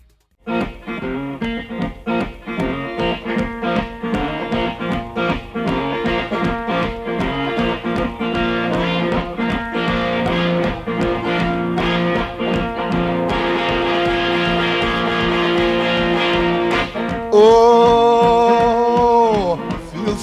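A boogie guitar fed through an echo chamber built from a toilet in a Detroit recording studio, with steady foot stomping keeping a driving beat, a continuous loud reverberant groove with a voice entering near the end.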